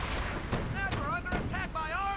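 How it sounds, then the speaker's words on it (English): Nebelwerfer rocket artillery fires in a World War II strategy video game, with booming launches and whining rocket streaks under a commentator's steady talk. "Nebelwerfer arriving for Symbiosis, a bit of rocket artillery."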